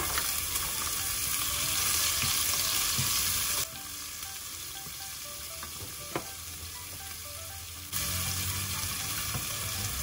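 Chopped onion sizzles and crackles in hot oil in a pan while being stirred, a loud continuous frying hiss that dips quieter midway and then rises again.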